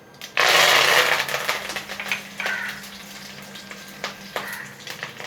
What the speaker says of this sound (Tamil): இந்த மாதிரி கடுகு பொரிஞ்சதும் அடுத்ததாக இதில் கருவேப்பிலை போட்டுடலாம்